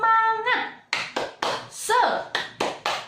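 A classroom group performs a rhythmic clapping chant, sharp, evenly spaced claps in a quick pattern alternating with short chanted vocal calls, close and lively.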